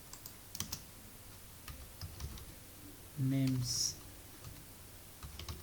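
Computer keyboard keys clicked in short scattered bursts while entering a name in Java code, close and fairly quiet, with a brief spoken word partway through.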